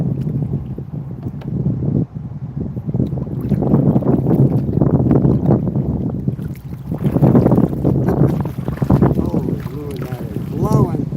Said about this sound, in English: Easier to tell if the wind wasn't blowing.